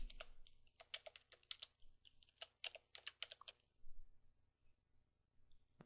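A computer keyboard is typed on in quick, irregular bursts of close, crisp key clicks as a passphrase is entered for Linux disk encryption, with a short pause midway and no talking.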